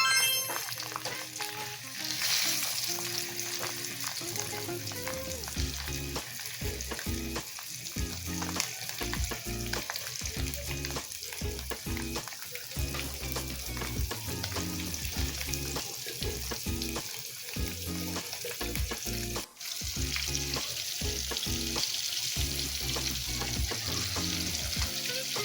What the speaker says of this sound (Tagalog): Pag mainit na ang mantika ay pwede na nating ilagay ang hito na nilagyan natin ng crispy